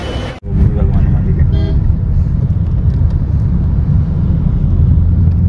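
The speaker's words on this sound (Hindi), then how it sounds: "चलते हैं अपनी गाड़ी में।" Steady road noise inside a moving car on the way to Mata Vaishno Devi, a loud continuous engine and tyre rumble filling the whole stretch after a brief cut at the start, with occasional voices in the background.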